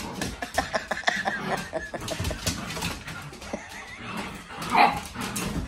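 A puppy yips, whimpers and gives small barks in quick irregular bursts, close by, with some faint voices mixed in.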